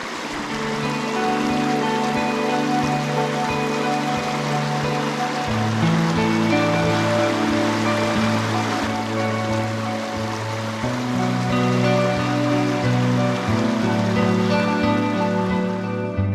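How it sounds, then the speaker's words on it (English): Steady broadband rush of the Gloucester River flowing in New South Wales, Australia, continuous and fairly loud, with tonal humming layered over it throughout. "This is the Gloucester River."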